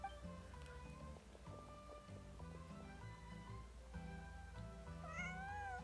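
A cat meows in the Genshin Impact video game, a few short mews, faint and close, over a soft game music bed with no talking.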